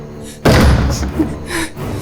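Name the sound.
knocking on a door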